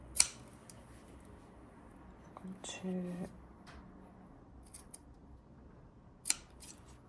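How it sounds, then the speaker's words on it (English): Scissors snip the corners off fabric for a shirt sleeve placket and cuff, giving a few sharp, close clicks spread through the clip amid quiet room noise, with a person speaking briefly. "I'm going to snip the corners off."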